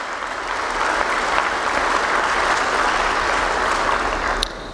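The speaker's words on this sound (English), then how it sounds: "So a round of applause," Audience applause at a 2013 media innovation event, a steady broad wash of clapping from a crowd that holds at full strength for nearly five seconds before easing off at the very end.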